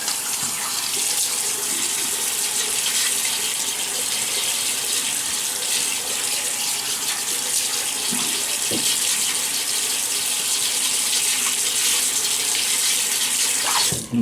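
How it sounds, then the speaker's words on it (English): Tap water runs steadily into a sink, a continuous close hiss and splash with no talking, as water is used to wet the face before a shave. "let me wet the face"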